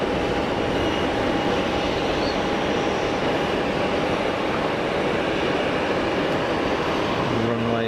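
Boeing 777 airliner at Geneva Airport, heard as a broad steady roar of jet engine noise that fills the whole stretch, loud and constant, with a faint tonal whine running through it.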